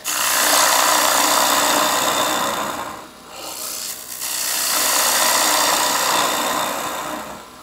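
A woodturning gouge rides its bevel across a spinning wooden bowl on a lathe, giving a loud, steady rasping shear that dips briefly midway before resuming at full strength.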